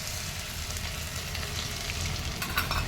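Crushed ginger fries in a pan of lentils, giving a steady close sizzle with a few stirring scrapes near the end.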